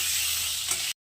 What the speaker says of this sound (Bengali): তো বেগুনগুলোকে এবার আমি লাল লাল করে ভেজে নেব।